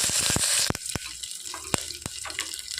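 Cumin seeds and curry leaves sizzle in hot oil with sharp spattering pops, loud at first then easing into scattered crackles and occasional spoon clinks.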